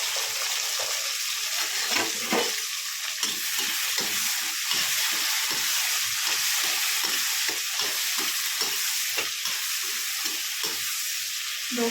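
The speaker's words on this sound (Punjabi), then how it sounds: "ਤੇਲ ਗਰਮ ਹੋ ਗਿਆ ਸੀ ਜੀਰਾ ਪਾਤਾ ਆਪਾਂ ਵਿੱਚ ਪਾ ਦਾਂਗੇ ਮਸਾਲਾ ਸਾਰਾ ਤੜਕਾ ਜਿਹਨੂੰ ਕਹਿੰਦੇ ਆਪਾਂ" Cumin and spices sizzle in hot oil for a tadka meant for aloo gobi, a loud continuous frying hiss with occasional stirring scrapes, close by and with no talking.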